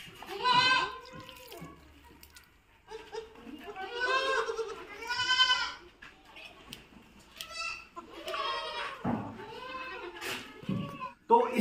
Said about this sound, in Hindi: तो इसी तरह हम बकरी के जो 0 से 3 मंथ के बच्चे हैं उन सभी को दूध पिलाने का काम करेंगे